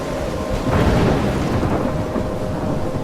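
A thunderstorm in the video game Life Is Strange sets a rumbling roll of thunder over steady driving rain. The thunder swells around the first second and then settles into a continuous stormy wash, with no voices over it.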